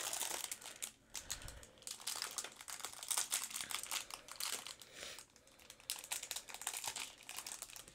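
Plastic packaging crinkles and crunches close up in irregular handling bursts while a LEGO Harry Potter advent calendar is unboxed, quiet and intimate with no talking.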